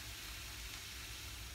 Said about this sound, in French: غادي نحط البصله le faire dorer